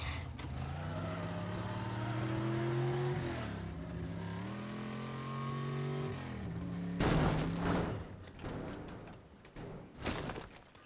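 Muscle car engine in a video game, a steady droning tone rising and falling in pitch for several seconds, then giving way to a burst of crashing, scraping impact noise with a few further thuds.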